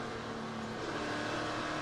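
An ARCA stock car getting back on the throttle after backing off, its engine a loud, dense roar surging steadily for a couple of seconds.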